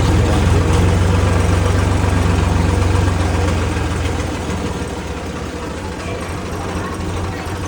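Tractor idling with an empty trailer hitched, its diesel engine running as a steady, loud, low rumble with mechanical rattling, easing slightly quieter partway through with no talk.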